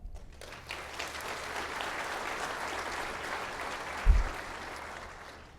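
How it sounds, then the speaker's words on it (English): Audience applause at a coastal symposium, a sustained, even roar of many hands clapping that rises quickly and holds for several seconds, with a brief thump near the end. "Now that is something to clap about."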